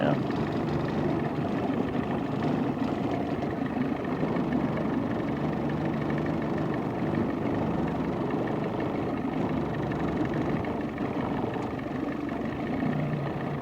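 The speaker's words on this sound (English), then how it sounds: "we'll do on the 13, just see what it'll sit there and idle and troll at for our speed." A 1990 Johnson 20hp outboard motor fitted with a 13 pitch prop idles at trolling speed, a steady low drone with wind and water noise that holds without change throughout.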